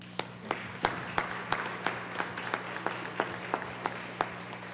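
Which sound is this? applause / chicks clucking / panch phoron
applause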